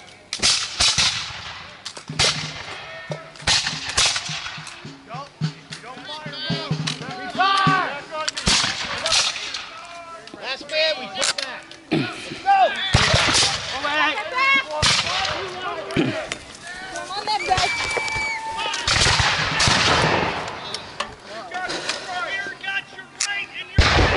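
Musket rolling fire at a battle reenactment at Fort Ticonderoga, New York: sharp irregular gunshot cracks ripple in quick succession, some near and loud, others farther off, with shouted commands between volleys.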